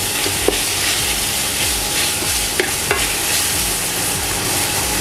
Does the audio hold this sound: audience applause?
no